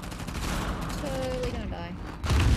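Dense in-game gunfire from the action-adventure Uncharted: The Lost Legacy, a continuous fusillade of rapid shots that swells louder near the end, with voices mixed in.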